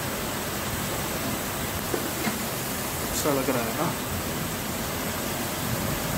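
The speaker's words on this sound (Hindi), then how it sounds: "बहुत बारिश तूफान के साथ पड़ रहा है" Heavy evening rain with a storm in Bangalore, a loud, dense, steady hiss of downpour filling the whole clip, with a person speaking briefly under it.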